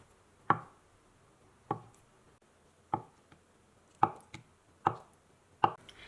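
A knife chops soft, tender tofu into small cubes on a board: six isolated, evenly spaced thuds in a quiet kitchen, close and distinct with silence between each cut.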